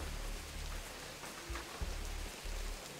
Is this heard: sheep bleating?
no